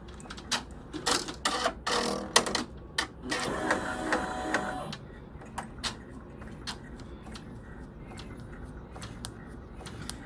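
Embroidery machine running a basting stitch around a sweatshirt: rapid mechanical needle tapping and whirring, a dense buzzing burst early on, then a steady run of sharp, regular clicks, close and moderately quiet.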